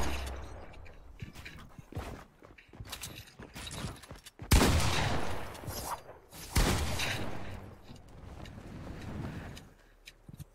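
Gunfire in the Fortnite video game comes as scattered shots and short bursts, with two sharp, loud blasts standing out among softer pops and mechanical clatter, and no voices.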